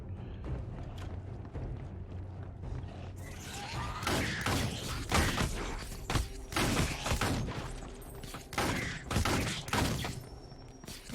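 Gunfire in Wolcen: Lords of Mayhem, a burst of rapid repeated shots and impacts that starts a few seconds in and continues over a low ambient background, moderately faint.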